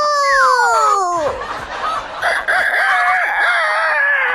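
A loud rooster crows up close, a long rising and falling call, followed by excited clucking and squawking.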